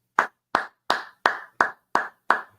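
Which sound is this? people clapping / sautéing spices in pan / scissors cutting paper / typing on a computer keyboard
people clapping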